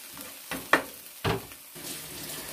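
A sausage and vegetable omelet sizzles in a hot pan right after being flipped, with a steady frying hiss broken by a few louder spatula scrapes and taps.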